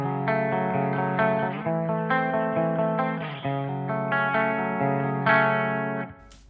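Electric guitar played through an ENGL E530 preamp and Peavey 6505 power amp with a light crunch, sustained chords ringing in sequence, close and clear, with no talking.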